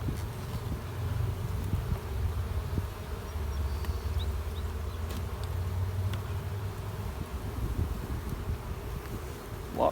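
Honey bees buzz steadily in an open hive during a spring inspection, a close, continuous hum with light wind noise, no voices.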